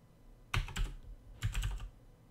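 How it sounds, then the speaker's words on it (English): Two short bursts of computer keyboard typing while code is entered for a C# console application, each a quick cluster of close, crisp key clicks separated by a brief pause. "so we're going to type"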